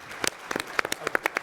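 Brief scattered applause from a small audience at an advocacy summit, a handful of sharp, uneven claps close together, with no talk over them.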